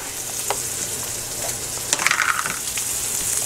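Meat sizzles in a pan, frying for a meat sauce, with a steady bright hiss and a few small crackles and spoon scrapes near the middle, heard alone.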